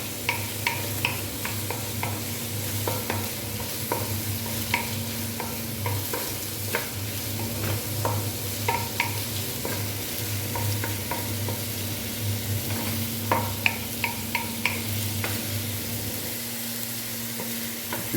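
Garlic sizzles in a pan for tokwa sisig while a spatula stirs it, with a constant frying hiss and frequent sharp scraping clicks, close and steady throughout.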